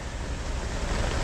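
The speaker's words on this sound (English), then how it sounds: "She's going to give it a flush now with some paper." A toilet is flushed with paper and water rushes through a blocked drain pipe in a steady, dense roar that stays continuous and fairly loud throughout, with no speech.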